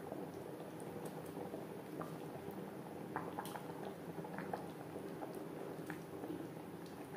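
Fish and fish head simmer in a Bengali fish curry, a faint, continuous bubbling with scattered soft pops and drips.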